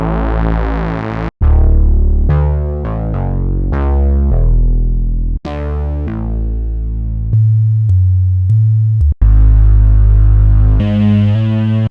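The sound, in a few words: Growler bass preset on GX-80 synth plugin by Cherry Audio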